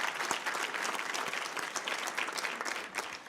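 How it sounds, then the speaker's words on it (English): Audience applause at a STEM education meeting, many hands clapping in a steady, moderately loud patter with distinct individual claps standing out, continuing evenly throughout. "How about an applause for the guy who did the introduction?"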